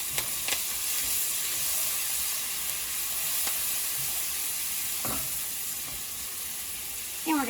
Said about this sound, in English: we're going to let those garlics just brown just a tad bit